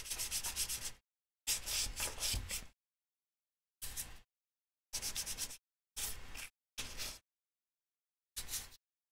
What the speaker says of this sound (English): What I really need to do is use my Dremel